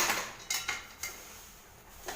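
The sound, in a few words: stirring beaten rice (aval) in a pan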